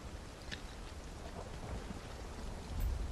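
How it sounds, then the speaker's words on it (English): Soft, steady rain in the video game Final Fantasy 7 Rebirth, a faint continuous hiss of falling water with a low rumble toward the end, no voices. "It's raining again."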